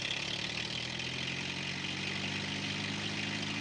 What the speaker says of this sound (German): Das Trackmobil, ein kombiniertes Schiene-Straße-Fahrzeug, weiß sich in diesem Fall zu helfen.